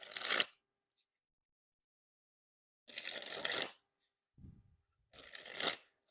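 A 1st Playing Cards V3 deck is dribbled from hand to hand in three separate bursts, each a quick close fluttering patter of cards falling, with silence between and a small soft tap before the last.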